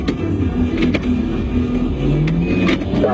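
A car engine revs and pulls away as the suspect flees, a steady mid-pitched motor drone with rising tones, fairly loud and close with no talking.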